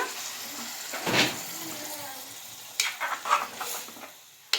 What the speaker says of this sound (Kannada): ಈಗ ಚೆನ್ನಾಗಿ ಮಿಕ್ಸ್ ಮಾಡ್ಕೊಂಬಿಡೋಣ